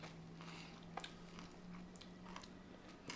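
Crunchy bites and steady chewing of a hazelnut spread M&M candy, soft-centred with a crisp shell, heard up close as a few sharp cracks over quiet, moist mastication.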